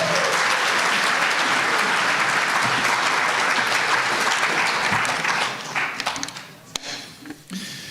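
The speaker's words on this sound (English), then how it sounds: "How about a round of applause for everybody that's been up here so far" Audience at a folk music benefit concert applauds all the acts so far with a loud, dense wash of clapping. It holds steady for several seconds, then thins into scattered claps and a few sharp taps as it dies down.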